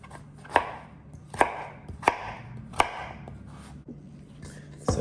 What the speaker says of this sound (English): I'm going to cut them in cubes.